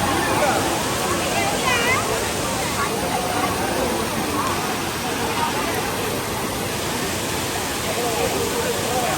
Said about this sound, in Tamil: இதுதான் வந்து நீர்வீழ்ச்சியிலேருந்து தண்ணி வந்து குளிக்கிற இடம்.